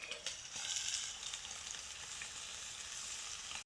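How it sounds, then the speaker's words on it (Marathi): Boiled, squeezed-out vegetables go into hot oil in a kadhai, producing a soft, steady frying hiss that is fairly faint and close, with no speech. "शिजून पिळून काढली ती भाजी आता कढईत घालून घ्यायची."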